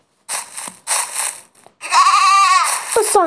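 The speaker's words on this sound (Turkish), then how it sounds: "Bu son keçicik." A goat bleats while being fed, giving several loud, close, wavering cries separated by short pauses.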